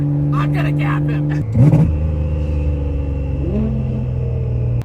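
A Nissan GTR, said to make over 2000 horsepower and shoot flames, accelerates hard on the street. Its engine roars loud and steady, with a brief rising burst partway through.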